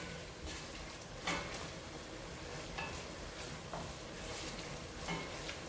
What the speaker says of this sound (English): these onions, as you can see, they're starting to tan up